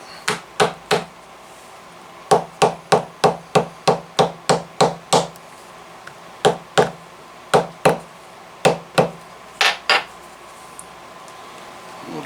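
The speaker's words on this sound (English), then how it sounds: "the hammering after you glue, hammering that glue kind of sets it." Leather knife sheath being hammered after gluing, a series of sharp, close taps in quick runs with short pauses, loud and alone with no talk.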